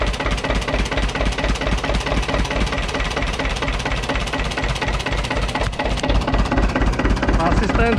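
A homemade tractor with a Slavia 27 hp stationary engine idles after being restarted following 20 years of disuse, a loud, close, steady knocking chug, with a voice briefly heard near the end.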